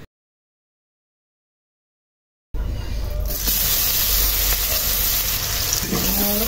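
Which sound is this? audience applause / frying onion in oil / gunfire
frying onion in oil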